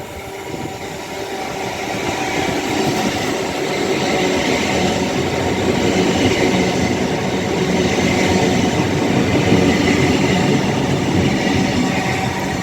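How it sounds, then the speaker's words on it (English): A Class 805 Evero train, unit 805-006 running from Crewe to London Euston, rolls slowly through Rugby station, a steady broadband rumble with faint rhythmic wheel clatter holding loud and even throughout. "About to pass by now very slowly. Will be an 805 Evero running from Crewe to London Euston."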